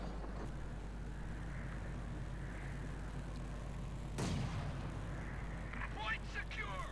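Artillery shells land in a Company of Heroes 2 real-time strategy match, with one loud impact rising sharply over a steady low game rumble and a fainter blast shortly after, all under ongoing commentary.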